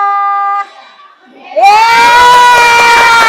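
A classroom of children breaks into a loud, sustained shout and cheer, right after a short synthetic musical tone sounds and fades.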